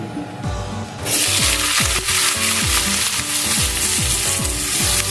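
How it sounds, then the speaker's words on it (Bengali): Loud, steady sizzling as cut potatoes fry in a hot pan for jhinge aloo posto, with rhythmic scraping knocks of stirring beneath the hiss. "ভাজা ভাজা করে নেব।"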